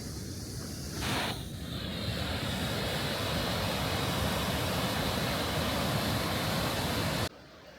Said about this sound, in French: Et voilà, de belles cascades là devant.